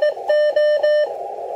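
CW Morse code tones from a K3 radio transceiver in test mode, a few short bright beeps in quick succession, then the tone fades into a duller hum.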